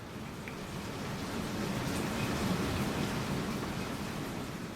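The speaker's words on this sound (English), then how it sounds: "it's raining pretty hard out there" Heavy rain drums steadily on a roof, a dense continuous hiss with no breaks and no voices.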